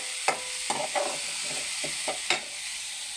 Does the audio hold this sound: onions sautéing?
yes